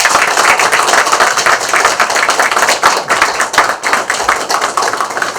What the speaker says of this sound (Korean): 그럼 쿵쾅거리는 마음을 담아 큰 박수로 모시겠습니다.